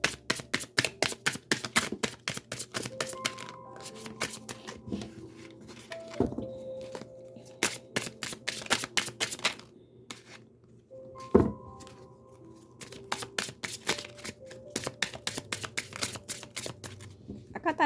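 Tarot cards are riffled and shuffled in rapid repeated bursts of crisp flapping and snapping, separated by brief pauses and occasional soft knocks, close and fairly quiet with no voice.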